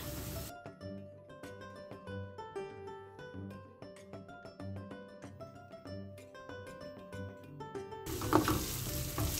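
Steady frying sizzle of julienned red pepper and onions runs under a melodic music track, with a louder burst of hissing and stirring near the end.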